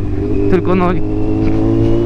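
A motorcycle with a short Austin Racing exhaust revs loudly and holds a raw, buzzing drone, while someone speaks briefly over it partway through.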